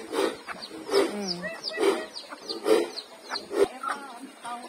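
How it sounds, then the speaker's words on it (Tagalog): Chickens with small chicks clucking and cheeping in a backyard where ducks are also kept, a steady run of repeated close clucks with high peeps in between and a faint voice underneath. "Ayan, may mga maliliit na sisiw."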